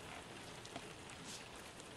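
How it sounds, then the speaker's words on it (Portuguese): Heavy rain pours steadily onto surfaces, a dense continuous hiss and patter with no break, heard on its own without any voices. "tá chovendo tanto"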